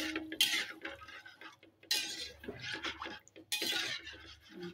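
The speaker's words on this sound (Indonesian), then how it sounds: "Kita aduk-aduk." A spoon clinks and scrapes in a pan while a sauce thinned with about 150 ml of water is stirred for chicken steak, in bursts of close, sharp metallic scraping with soft gaps between.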